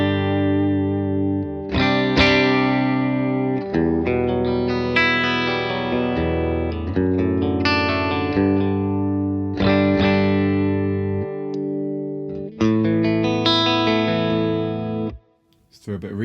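Electric guitar on the bridge pickup played through a Victory VC35 The Copper amplifier with a bright, slightly driven tone, sustained chords and single notes ringing out, loud and close with no talking.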